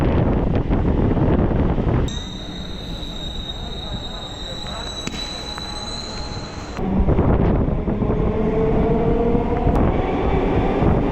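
A train rumbles loudly past at Greenways Road railway station, then a steady high wheel squeal rings out for several seconds before the heavy rolling clatter returns.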